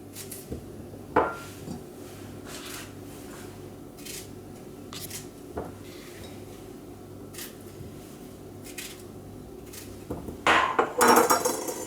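Fresh strawberries go into a small container in a kitchen, making light, scattered clinks and soft knocks against the dish, with a brief louder rattle at the end.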